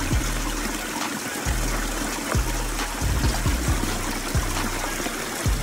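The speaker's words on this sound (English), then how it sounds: "We got a little update here on the waterfall." Water trickles and splashes over a small rock waterfall built in a restored creek, a continuous close bubbling with irregular low gurgles and small plops, without speech.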